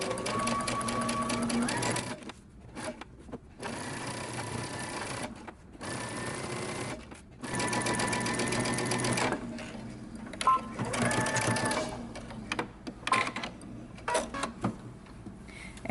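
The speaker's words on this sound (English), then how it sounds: "going to take you to the sewing machine and we're going to stitch from the center in one direction" A sewing machine stitches a dress seam with a 5/8-inch allowance, loud rapid whirring runs broken by brief stops and restarts, close and alone without talk.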